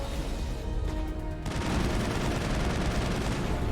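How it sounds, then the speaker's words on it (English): Dense gunfire rattles in the Mass Effect video game, a continuous close fusillade that grows heavier partway through and carries on without a pause. Nobody talks. "They're shooting at the wrong targets"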